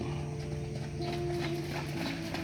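Two racehorses at a Sumedang racetrack during a training run, their hooves clopping in a steady rhythm over a constant low hum and background noise, moderately close.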